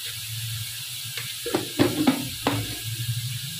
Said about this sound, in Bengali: চলুন মশলাটা আবার কষিয়ে নিই।